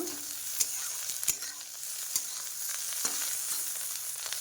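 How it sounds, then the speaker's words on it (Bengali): Slices of bitter gourd fry crisp in hot oil, a close, steady sizzle broken by a few sharp clicks as a utensil stirs and turns them in the pan. "আমার উচ্ছেটা একদম কড়া কড়া ভাজা হয়ে গেল"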